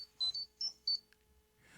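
A smartwatch gives a few short, faint high-pitched beeps in close succession, alone in a quiet room.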